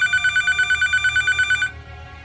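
A telephone rings for an incoming 911 emergency call, a rapid electronic warble repeating steadily for about a second and a half before cutting off, leaving faint room tone.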